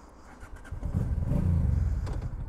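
A Honda Deauville 650 motorcycle engine cranks and catches, rising from a brief starter whir into a low, close idle rumble that swells and holds for a couple of seconds, no talk over it.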